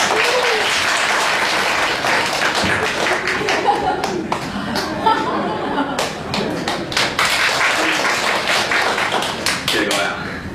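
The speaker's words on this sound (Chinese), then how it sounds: "掌声有请" A live crosstalk comedy audience bursts into sustained, loud clapping to welcome two performers on stage, dense applause filling the room with scattered thumps and a voice heard over it.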